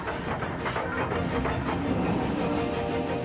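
The LNER steam locomotive Mallard rumbles steadily along the rails on Stoke Bank during its record attempt, with a dense low roar and faint rhythmic clatter continuing throughout.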